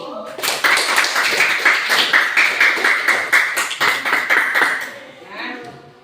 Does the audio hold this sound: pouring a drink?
no